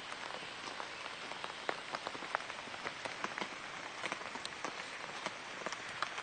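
Rain drumming on a tent roof at a Hicks Lake campsite, with branches overhanging the roof. A faint, continuous patter is broken by frequent sharper, heavier drops landing close by.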